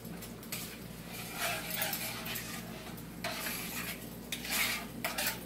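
A spoon stirs a butter and parmesan sauce in a pan for a lobster dish, soft scraping and light clinks over a low, steady background hum.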